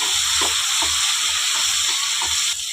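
Brinjal stirred with salt and turmeric in a hot pan, a steady frying sizzle and hiss with soft, rhythmic scrapes of the spoon about every half second, close and alone.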